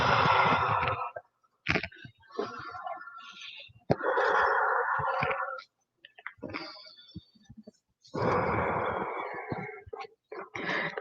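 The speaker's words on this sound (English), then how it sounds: "Challenging yourself to breathe" Deep, slow breaths during a yoga session, long drawn-out inhales and exhales in repeated bursts separated by short silences, close to the microphone and alone.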